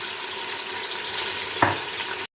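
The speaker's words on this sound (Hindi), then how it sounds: "इसे हम अच्छे से फ्राई करेंगे" Boneless beef frying in a pan with browned onions gives a close, steady sizzle, broken once by a short clink of a utensil near the end before the sound cuts off.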